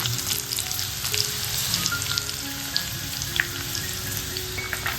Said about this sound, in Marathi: लसूण आणि आलं हे फोडणीला मेन चांगला उकळतो बघा